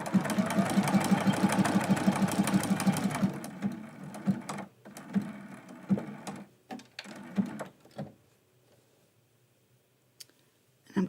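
A home sewing machine stitches a Christmas quilt block with a fast, steady mechanical hum for about three seconds, then stops and gives way to scattered clicks, taps and handling noises that fade toward quiet.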